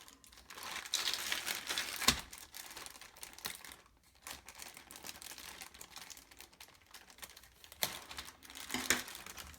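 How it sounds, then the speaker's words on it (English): Plastic bags of Extinction Blaster parts being opened, close irregular crinkling and rustling with a few sharper crackles, no talking. "so let's open these bags"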